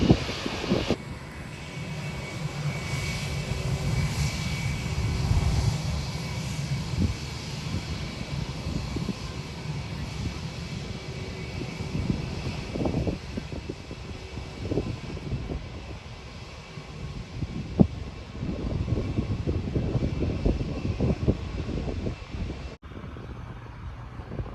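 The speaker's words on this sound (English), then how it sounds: "Private jet." A private jet at Phuket airport runs its engines with a steady, broad roar and whine that holds for a long stretch, with wind buffeting the microphone, before cutting off abruptly near the end.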